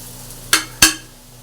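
Stirring onions and ground spices in a frying pan: two quick, sharp metallic clinks of a utensil against the pan, close and distinct, over a quiet steady background.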